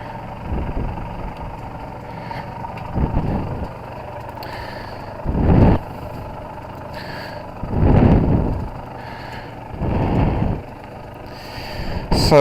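An Aprilia RS250 motorcycle with about 6,000 miles, recently recommissioned, heading out for a short test spin: faint engine hum broken by several louder rumbling rev bursts a few seconds apart, fairly close.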